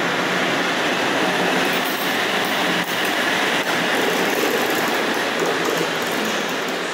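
An EP09 electric locomotive with a TLK Małopolska passenger train at Kraków Główny station gives a steady, loud rolling rumble of railcars passing close by, with a couple of faint clanks and no talk.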